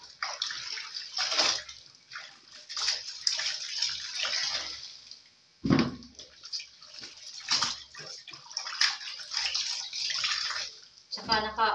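A running tap splashes water steadily while laundry is rinsed by hand, with bursts of sloshing and swishing that come and go as someone talks nearby.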